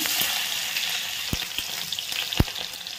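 Cut chillies hit hot oil in an iron kadai and sizzle steadily and loudly, with a few sharp pops and crackles over the hiss and no speech.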